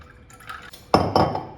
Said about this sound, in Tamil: அப்புறம் 3/4 பங்கு தண்ணி.